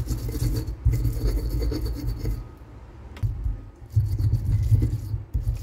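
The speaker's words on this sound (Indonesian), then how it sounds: "Ini cabai rawit dan juga bawang putihnya mau saya haluskan dengan menggunakan sedikit garam." Bird's eye chili and garlic are ground with a little salt, giving a close, continuous scraping and rubbing sound with rhythmic pulses as the mixture is crushed, with no voices.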